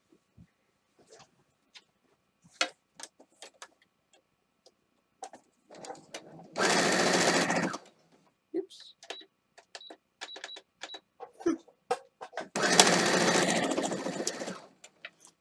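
A Brother CF6000 sewing machine stitching a quilt runs in two short bursts of steady, close whirring, separated by quiet clicks and small handling noises.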